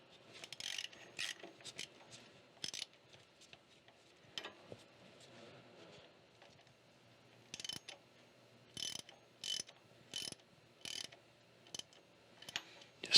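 A ratchet clicks in short bursts while bolts on a tractor PTO mounting plate are snugged up, crisp close clicking separated by quiet pauses and small metal handling sounds.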